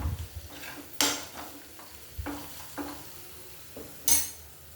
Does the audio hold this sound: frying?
yes